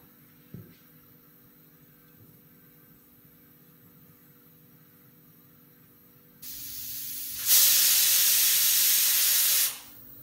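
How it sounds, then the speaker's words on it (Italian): A pressure cooker cooking octopus vents steam, a low hum joined by a steady hiss that swells into a loud rushing jet for a few seconds, then cuts off abruptly. "Sentiamo intanto la nostra pentola a pressione che sta ancora lavorando"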